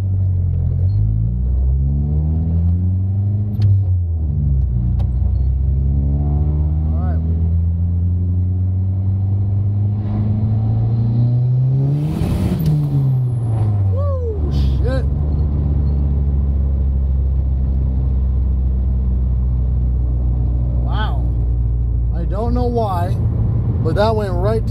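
A turbocharged car running 16 psi of boost, with traction trouble, accelerates hard in a short second-gear pull: a loud, steady engine rumble rises in pitch, peaks, then drops as the throttle is released, with a brief burst of noise near the top.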